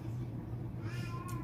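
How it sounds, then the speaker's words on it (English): A cat meows at a closed bedroom door, one short, faint, rising meow near the end over a low steady household hum, with no talk. "That cat is driving me crazy today."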